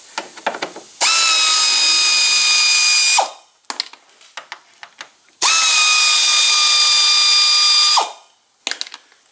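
A power screwdriver fitted with a Torx 30 bit removes headlight screws on a 2015 Ford Transit 250, giving two long, loud, close whirring runs separated by softer clicks and handling noises.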